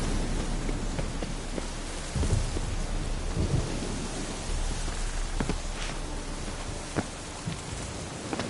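Heavy rain and rolling thunder from a storm in The Witcher 3: Wild Hunt, a constant downpour broken by a few sharper thunder cracks and droplet hits, with no voices.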